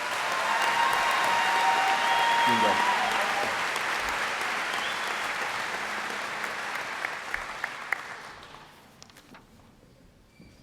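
A large crowd applauds graduates at a high school graduation ceremony, a broad sustained roar of clapping that gradually tapers off toward the end, with a short spoken word in the middle.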